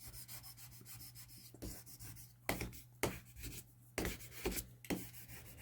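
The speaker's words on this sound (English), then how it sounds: "I always go to the back and burnish the back well." A tool firmly burnishes the back of vinyl labels for a Cricut Maker 3, giving close, scratchy rubbing strokes in uneven bursts with a few sharper swipes, alone without talk.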